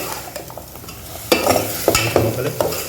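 Cabbage and mixed vegetables sautéing in oil in a pan for poriyal, continuous sizzle broken by sharp stirring scrapes and knocks of a spoon, close and fairly loud, no voices.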